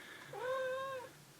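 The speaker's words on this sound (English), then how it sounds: "That's my cat." A pet cat gives one clear, drawn-out meow close by, with a quiet room behind it and no talking.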